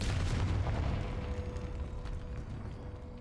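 Confringo explosive spell in Hogwarts Legacy, a single heavy boom at the start with a rumbling, crackling decay fading over a few seconds, close and loud with no talk.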